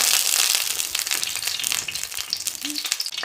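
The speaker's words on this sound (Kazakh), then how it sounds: "Итак, масло готово, сковородка разогрелась. Давайте положим наши помидоры." Sliced tomatoes sizzle in melted butter in a hot frying pan, a steady bright crackle of frying with small pops and spatters, close up and continuous.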